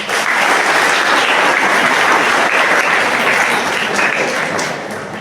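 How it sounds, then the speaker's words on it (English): A classroom audience gives a big, dense round of applause that holds steady and loud for several seconds before tapering slightly at the end. "Give me a big round of applause."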